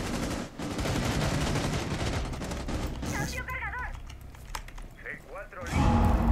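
Rapid gunfire rattles in a Rainbow Six Siege match, dense bursts of shots for the first few seconds, then sparser distant pops under a player's commentary before a final loud volley.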